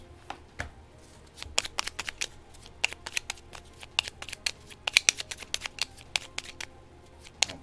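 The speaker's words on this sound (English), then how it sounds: "These are always there, so we're going to shuffle these up." Scoring tiles for a board game are shuffled by hand on a tabletop, making a quick run of sharp clicky clatters in irregular bursts, close and fairly quiet, with no talking.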